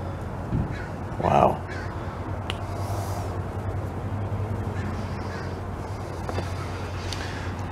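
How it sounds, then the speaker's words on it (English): A single crow caws once, loud and fairly close, early on during a rescue of a female northern flicker, then low background noise continues with faint outdoor sounds and no further calls. "Probably looking for the crows."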